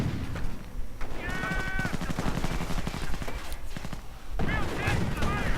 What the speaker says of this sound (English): And we see the mortar team continue to fire.